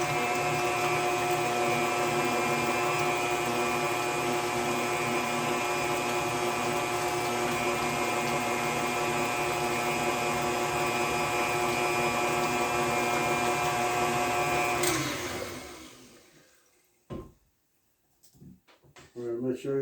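An electric mixer whirs steadily, beating pumpkin custard pie filling in a bowl for about fifteen seconds before winding down and stopping, followed by a few clinks and quiet handling sounds.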